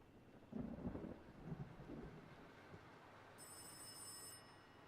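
A telephone in the horror video game Rise of Insanity rings once late in the moment, a faint high electronic trill over low rumbling ambience and thunder-like noise.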